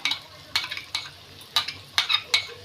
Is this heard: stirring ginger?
yes